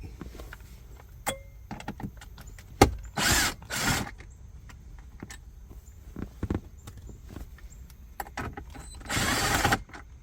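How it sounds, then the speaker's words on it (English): A power drill works a bolt out of the center console of a 2015-2021 Dodge Charger, with short whirring bursts between clicks and clunks of handling, the loudest runs near the start and end. "just remove the bolt in here"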